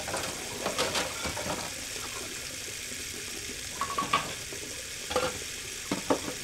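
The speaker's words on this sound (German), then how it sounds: "Wie lange muss das Ding denn braten hier?" In the video game Beyond: Two Souls, food fries in a pan with a quiet steady sizzle, broken by a few soft clinks and stirring sounds.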